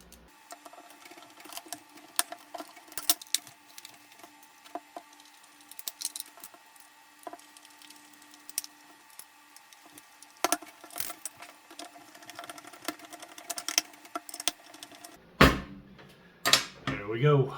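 A T9 Torx screwdriver backs small screws out of a Ryobi 18V tool battery kit, giving faint, sparse ticking clicks, with a burst of louder handling noise near the end.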